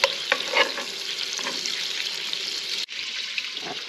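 Fish fillets, crappie, fry in butter in a pan with a steady, close sizzle and some clatter of stirring. The sizzle cuts off abruptly near the end and leaves quieter handling noises.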